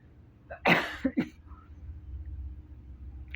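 A single sharp cough, with a smaller follow-up hack, close by, then quiet low rumbling.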